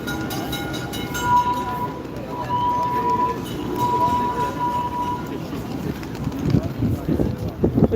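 Historical tram running through a plaza in Turkey, a rumbling rail roll with a sustained whining tone, heard amid outdoor crowd noise and nearby talk, moderately loud throughout.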